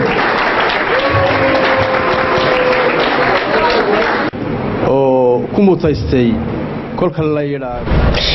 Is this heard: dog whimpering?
no